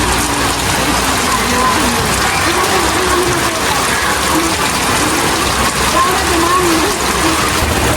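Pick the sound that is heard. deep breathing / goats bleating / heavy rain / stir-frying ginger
heavy rain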